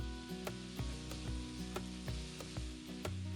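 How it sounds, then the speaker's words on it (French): Onion and garlic sizzle in oil, cooked briefly before tobanjan paste goes in, a steady soft crackle under a louder repeating low tonal layer that looks like background music, with recurring sharp ticks. "faire revenir l'oignon et l'ail une trentaine de secondes"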